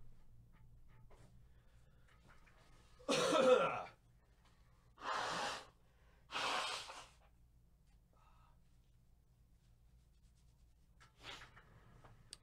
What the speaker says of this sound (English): people don't have to hear me blowing my nose and stuff